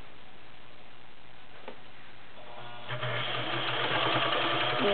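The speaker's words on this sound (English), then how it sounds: "You'll see the fabric working up and back, doing one in reverse or the stretch stitches." A vintage Viking 2841 Turissa convertible sewing machine stitching in reverse: quiet at first, then the motor and needle start up and run in a steady, fast, close mechanical whir with rhythmic ticking.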